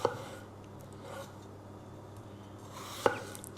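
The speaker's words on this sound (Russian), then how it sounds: "Также нарезаем мелкими кубиками." A knife dices raw potato into small cubes for a meat pie, two sharp chops on a board separated by a quiet pause, close and isolated.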